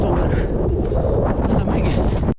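Loud, steady wind buffeting the microphone throughout, a continuous roaring rush with no letup.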